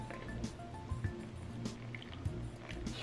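Six hundred grams of warm water at about 40 degrees poured onto buckwheat flour for a gluten-free loaf, a soft, steady, close splashing and trickling with faint drips throughout.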